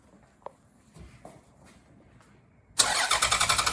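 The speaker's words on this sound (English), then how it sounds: "Let me start the car up." A Scania truck engine cranks and catches, then runs loudly with a rapid, pulsing rhythm, after a few quiet clicks and faint movement.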